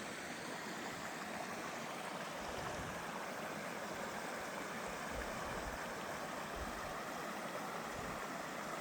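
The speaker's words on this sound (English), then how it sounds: "the forest opened, and there it was, the Douglas River, tumbling fast and loud" The Douglas River rushes fast and loud through forest, a steady broadband roar of tumbling water that fills the whole clip with no voices.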